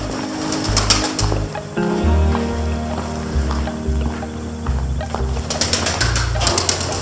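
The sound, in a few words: pigeons startled at a tunnel exit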